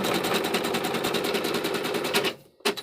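A Baby Lock Flourish embroidery machine, which has been skipping thread and leaving out part of a design, stitches with a rapid, steady mechanical chatter up close, halts abruptly near the end, then briefly starts again.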